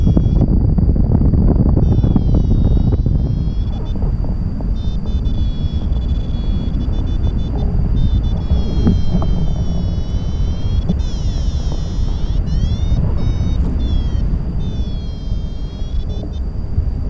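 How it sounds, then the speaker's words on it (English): Strong wind roars continuously past a microphone while paragliding at Ba Vi (Doi Bu), Vietnam, a loud steady buffeting rush with a faint high whine running alongside. "The wind is getting too much."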